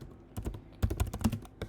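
Close, crisp taps on a computer keyboard, a few scattered keystrokes followed by a quicker cluster of typing, with no talk.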